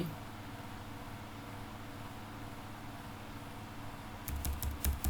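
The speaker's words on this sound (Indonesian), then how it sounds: "Kita ketik di sini." Several quick keystrokes tapped on a computer keyboard, a short burst of clicks near the end following a long stretch of low room hum.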